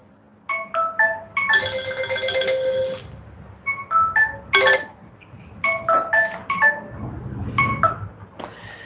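A phone ringtone plays through an incoming call, repeated bursts of bright melodic tones in short phrases with brief gaps, fairly loud and close, over a low background hum.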